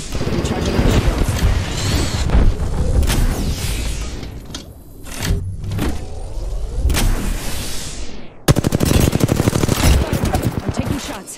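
Dense, loud automatic gunfire in Apex Legends runs in long continuous bursts with a short lull in the middle, then another rapid stream near the end. Voices and game callouts talk over it.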